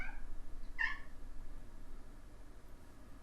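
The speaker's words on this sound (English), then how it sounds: "There's a cat in the background," A cat meows faintly in the background, giving one or two short distant cries early on over a steady low room hum.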